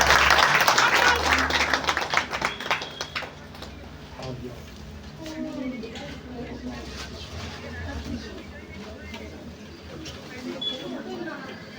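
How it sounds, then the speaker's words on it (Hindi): An audience at a Hindu cow-protection gathering claps to welcome honoured guests, with loud, crackling applause over the first few seconds that thins into scattered claps. Voices and background murmur continue underneath. "इनका स्वागत करते हैं हम तालियों के साथ"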